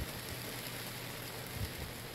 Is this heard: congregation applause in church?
no